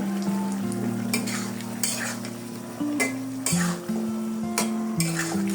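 Spiced greens stalks sizzle and fry in a pan as a spoon stirs and scrapes against the metal, a steady close crackle broken by a few clinks from the utensil.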